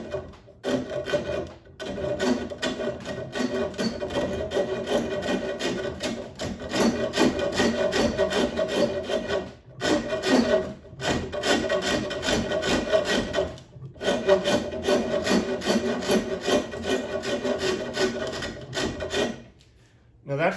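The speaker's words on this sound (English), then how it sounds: "it's a really nice aggressive rasp" Aggressive rasp filing a wooden bow handle: long, loud rasping strokes repeated back and forth in a continuous rhythm, with a few short pauses.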